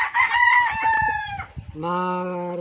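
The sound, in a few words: backyard gamefowl roosters crowing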